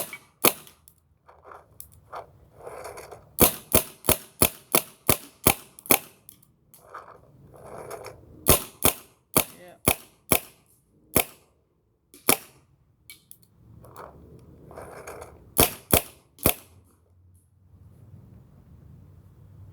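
A Bob Long VIS paintball marker fitted with a .685 CP 16-inch one-piece barrel fires a long series of sharp, loud pops, some in quick runs and some spaced out, with faint hiss and quieter gaps between.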